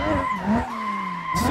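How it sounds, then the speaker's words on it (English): A custom Toyota MK3 Supra drifts through a narrow mountain touge road in Assetto Corsa, its tires skidding in a loud, continuous squeal with sliding pitch over the engine note for the whole stretch. "The drifting is so smooth."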